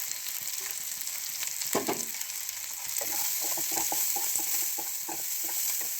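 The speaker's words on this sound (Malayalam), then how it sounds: "കൊച്ചുള്ളി കുറവായതുകൊണ്ട് ഞാൻ ശകലം സവോളയും കൂടി ഇടുവാണ്." Small onions plus a little sliced big onion frying in oil for beef curry, a steady close sizzle with scattered stirring scrapes and clicks, one louder burst of spatter and scraping near the start, no talk.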